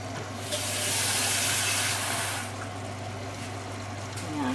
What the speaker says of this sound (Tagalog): Tapos, konting tubig.